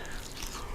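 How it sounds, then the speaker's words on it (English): A bite into the crisp skin of spicy maple chicken wings, a short close crunch of chewing with no talk over it. "there's even a nice little crunch to that skin"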